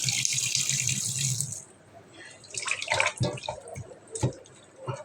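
Fresh rohu fish being washed by hand, starting with running water splashing into a basin, then wet slaps, drips and rattles of fish moving in the water at close range.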